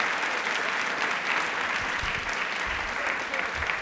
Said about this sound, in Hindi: एक बार तालियां प्लीज जोरदार हो जाए इनके लिए